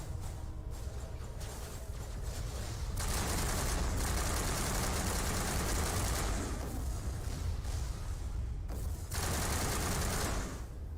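In the Mass Effect game, rapid turret gunfire rattles steadily at a dropship. Bursts run loud and dense for several seconds, broken by brief lulls, over a constant roar of battle noise.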